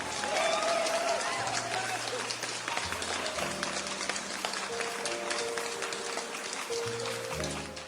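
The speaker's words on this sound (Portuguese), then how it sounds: "Aplausos para os nossos queridos ouvintes." Sustained applause and clapping from a crowd fills the whole stretch, loud and steady, with music playing underneath.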